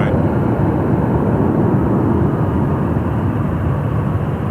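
A jet airliner rolling down the runway at night at Sydney Airport, a loud, continuous broadband roar close by that holds steady without letting up.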